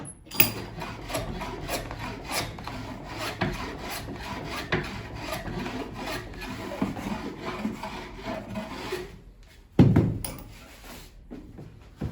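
A wooden fretboard of an electric bağlama being leveled with a hand rasp: steady, continuous rubbing and scraping strokes, close and loud, with a brief pause and a sharper knock near the end.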